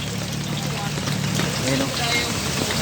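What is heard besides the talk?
heavy rain pouring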